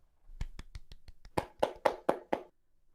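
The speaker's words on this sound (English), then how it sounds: "Give yourselves a round of applause." Hosts on a panel clap and slap their tables in a short, uneven burst of about a dozen sharp hits, light at first and then louder and thicker, close to the mic and with no talking.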